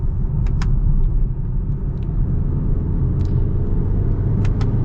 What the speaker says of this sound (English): Let's see how the Lineartronic CVT performs with the paddles.